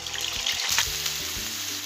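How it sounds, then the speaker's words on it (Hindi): Onions hitting hot oil and frying, a steady close sizzle with soft stirring clicks, no talking. "गर्म कर लेंगे ऑयल, और अब इसमें डालेंगे प्याज"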